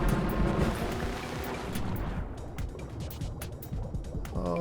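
A car sinks into the ocean in the video game Trailmakers, producing a steady, close wash of churning water and bubbling, with a few brief sharper splashes that continue for several seconds.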